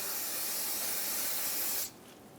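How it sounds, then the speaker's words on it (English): Brake parts cleaner sprayed onto the hub face of a 2013-2018 Hyundai Santa Fe during a front brake job, a loud steady aerosol hiss lasting nearly two seconds before cutting off. "Rinse it off with brake parts cleaner."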